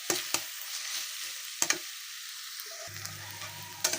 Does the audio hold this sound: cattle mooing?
no